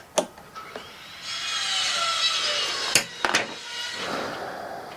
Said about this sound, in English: Sorry for the noise. My neighbor's having a construction project being done.